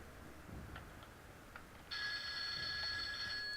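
A telephone starts ringing partway through, a sustained bright electronic ring that cuts in suddenly and holds steady over quiet background clicks.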